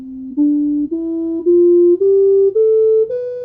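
Seven steady synthesized tones generated with Python step upward through a musical scale, each note held about half a second, clean and alone with no voices.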